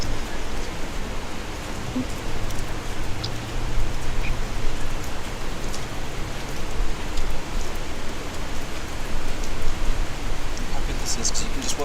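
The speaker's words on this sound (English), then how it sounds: "It's not easy judging in the rain." Steady rain falls outdoors at a freediving competition, a dense, even hiss of drops on surfaces that carries on without a pause.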